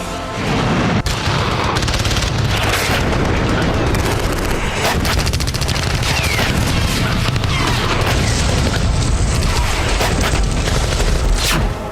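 Dense, continuous rumbling blasts and crackling impacts from Russian bombing of a militant training camp in Syria, loud and sustained throughout with no speech.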